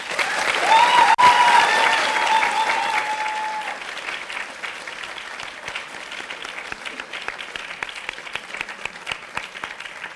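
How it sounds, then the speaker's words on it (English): Loud audience applause at a Model United Nations closing ceremony, strongest in the first few seconds with a brief whistle or cheer, then thinning to steady scattered clapping that fades toward the end. "Please join me in giving a huge round of applause to the chairs."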